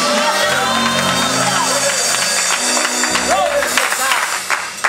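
Church congregation clapping and calling out praise during a service, a steady crowd roar of hands and voices with a preacher's amplified speech and music running over it.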